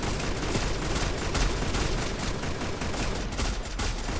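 Sustained rapid gunfire in the Free Fire mobile battle royale game during a tournament match, a dense continuous burst of shots running loud throughout with no pauses.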